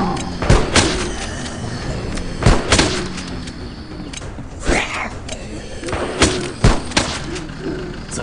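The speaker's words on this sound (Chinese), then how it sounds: "开枪，把他们打掉。" Gunfire in the mobile game Resident Evil X Life After, sharp shots in irregular bursts and single cracks over a noisy backdrop, with a voice speaking in between.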